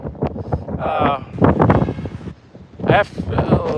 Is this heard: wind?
yes